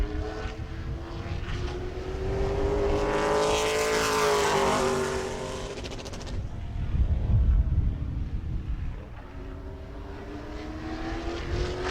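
A Hoosier Series Pro Late Model stock car laps New Smyrna Speedway in qualifying, its engine roaring loud and close as it sweeps past with a rising then falling pitch, drops off, then swells again with throttle.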